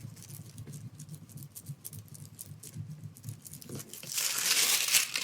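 A bone folder rubs across hot foil on paper, giving soft, faint scratchy strokes in a quick repeated rhythm that swell into a louder, rougher rubbing toward the end.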